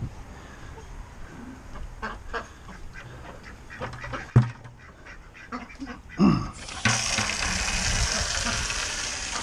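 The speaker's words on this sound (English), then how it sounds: "get more water for the duckies." Farm ducks quack in scattered bursts amid morning chores, mixed with splashing and clatter, then a loud rush of running water takes over near the end.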